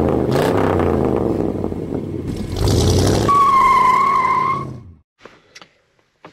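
A 1995 Ford F-150 XL 4x4 pickup drives with a loud, steady engine and road roar, rising briefly into a high tonal whine, then cutting off into near silence with a few faint clicks.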